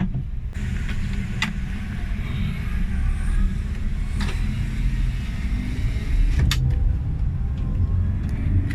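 Small car cruising steadily along the Medan–Tebing Tinggi toll road, a continuous low engine and road rumble with tyre roar, close and even throughout with a few faint clicks and rattles, no talking.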